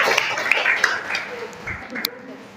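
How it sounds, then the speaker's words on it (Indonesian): A classroom group claps for a group's answer, a short burst of applause with scattered sharp claps mixed under speaking voices. "Wah, oke, tepuk tangan."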